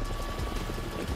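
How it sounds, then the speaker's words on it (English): A Far Cry 6 helicopter gives a dense, steady rotor roar, loud and close, filling the short moment without pause. "I didn't hit that fucking helicopter."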